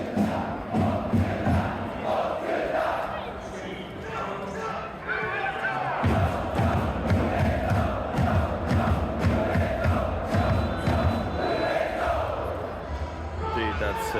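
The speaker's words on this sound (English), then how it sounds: "the people are cheering" Japanese football ultras in a stadium cheer and chant en masse with thudding drums, a dense, loud roar with rhythmic beats, and a voice talks over it.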